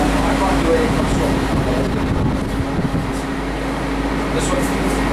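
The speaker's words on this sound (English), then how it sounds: "One aircon will run at a time, you see one aircon running." An air conditioning unit runs inside a cell tower equipment container, giving a steady, loud hum with a constant low drone that holds evenly throughout.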